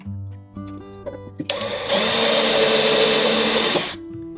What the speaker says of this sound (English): We're going to put these screws in, and that will stop this from pulling out.